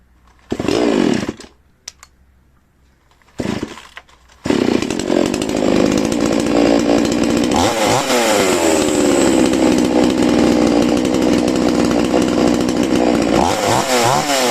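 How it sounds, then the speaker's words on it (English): A chainsaw with a newly fixed spark plug gives two short revs, then roars at sustained high RPM for about ten seconds, loud and close, with brief dips in pitch. "As you can see, the saw runs much better at high RPMs now."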